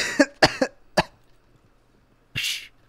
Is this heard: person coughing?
yes